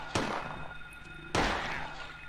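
Two sharp, punchy gunshot-like bangs about a second apart, each with a short decaying tail, weapon fire in the video game Silent Hill.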